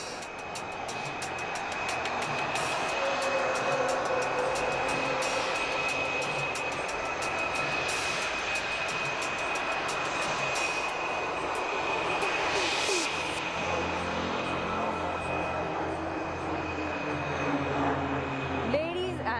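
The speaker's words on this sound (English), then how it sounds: "He will now start another loop and repeat the maneuver to complete the other half of horizontal leg." Indian Air Force fighter jets, Sukhoi and Tejas, performing aerobatic loops at an air display, a loud continuous engine roar that swells and shifts in pitch as the aircraft turns, with an announcer's voice over it.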